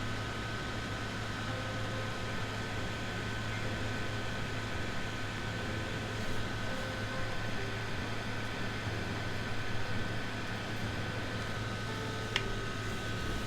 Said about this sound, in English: Sorry about the fan noise everywhere